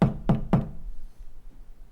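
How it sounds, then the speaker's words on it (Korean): Three quick, sharp knocks on a door in an even rhythm, loud and close, followed by near silence. "문을 두드렸습니다"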